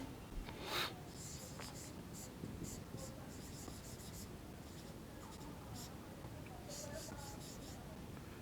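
Pen or chalk writing during a maths lesson, soft scratchy strokes in short bursts near the start and again later, faint and close under a quiet room hiss.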